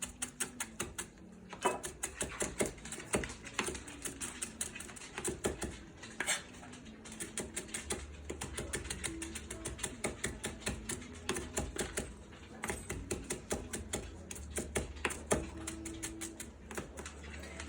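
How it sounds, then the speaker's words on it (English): A knife chops parsley on a cutting board at home, making rapid, steady, close-up taps that run continuously with a few short pauses. "cut that parsley up."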